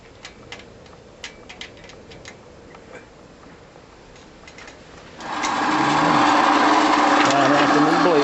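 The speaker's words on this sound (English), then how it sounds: "We are putting it back on the bandsaw." A bandsaw cuts a metal spacer for a transmission mount: light ticking and clicks at first, then the saw starts and runs as a steady, close, high whining buzz through the rest of the clip.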